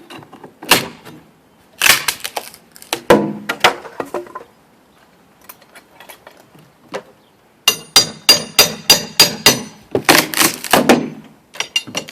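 Hammer blows knock cedar window trim loose from a window fastened with stainless nails, landing as clusters of sharp, close taps and knocks with short pauses between bursts.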